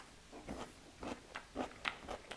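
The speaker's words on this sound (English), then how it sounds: "I'm just gonna give it a bite." A fermented pickle gets bitten and chewed close up, with a series of soft, wet crunches repeating in a quick irregular rhythm, faint and alone.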